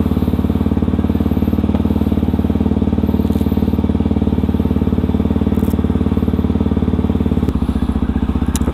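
A Yamaha WR155R supermoto idles steadily while warming up, a close, loud, even single-cylinder putter that shifts slightly in tone near the end.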